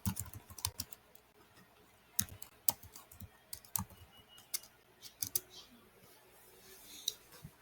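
Someone types on a computer keyboard, with quiet, irregular clicks and taps in short bursts and a few louder key strikes, close by, with no talking over it.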